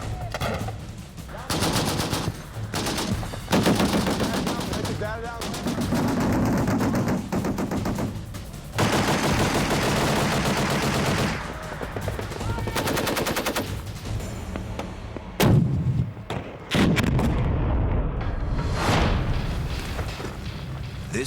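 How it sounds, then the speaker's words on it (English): Bursts of rapid automatic gunfire from a U.S. Marine Corps live-fire exercise crackle and rattle almost without pause, punctuated by heavy booming artillery blasts, loud and close. "Its tranquility broken only by the sound of live fire."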